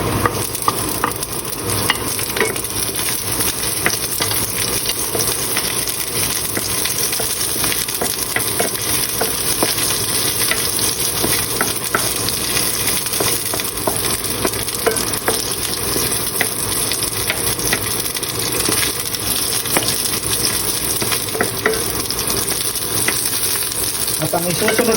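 Onions sauté in a pan for stir-fried bitter melon, a loud, close, continuous sizzle with occasional stirring scrapes and clinks throughout.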